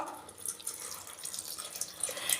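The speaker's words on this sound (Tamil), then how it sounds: "இப்போ நான் தண்ணி கொட்டிட்டேன்" Water pours steadily into a pan of simmering green pea kurma, a soft continuous splashing and trickling that lasts the whole stretch, fairly close and with no talking.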